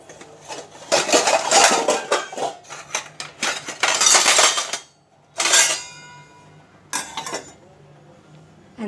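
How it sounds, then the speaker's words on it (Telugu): Metal cookware clatters and clinks in a kitchen as a lid is set onto a cooking pot of tangy dal soup, several sharp bursts of rattling with short quiet gaps between, close and fairly loud, no voices. "ఇప్పుడు మూత పెట్టేద్దాం."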